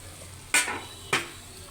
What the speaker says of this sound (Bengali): ঝোলটা একটু ফুটে গেছে ভালো করে এরকম করে নাড়িয়ে দিতে হবে